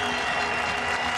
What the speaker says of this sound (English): there's huge applause around the ground as well from all the Pakistan supporters here